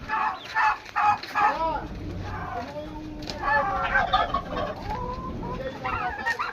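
A turkey clucking and gobbling close by, repeated in bursts over a few seconds, with some faint talk in the background.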